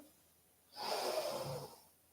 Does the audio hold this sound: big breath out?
yes